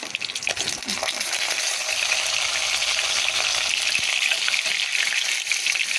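Fish fries in a pan of hot oil with a loud, continuous, crackling sizzle heard close up, along with occasional light spatters and stirring noises.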